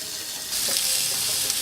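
Steak and onion sizzling on a BBQ grill, a steady hiss that jumps louder halfway through and keeps a dense, close crackle with no talking.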